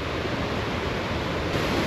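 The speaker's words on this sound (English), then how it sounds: "listen to the roar of the water" Water from a mountain stream roars steadily below a bridge on the Tour du Mont Blanc, a dense, continuous rush close by with no voices over it.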